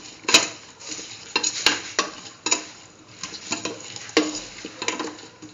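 A spoon stirs cauliflower and chayote stew in a pan, with irregular scraping and clinking strokes, a few sharp metallic taps, and a soft sizzle underneath.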